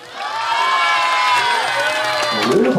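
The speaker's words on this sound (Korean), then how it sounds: "왜 이렇게 박수가 많으신지" A loud crowd at an outdoor Children's Day festival in Saemmeori Park, Daejeon, cheers and shouts continuously, with many high children's voices blending into a sustained roar and faint clapping underneath.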